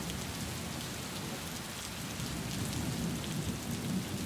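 Heavy rain pours steadily during a windy storm in Bengaluru, a dense, even hiss with a low rumble underneath, heard faintly without any voices.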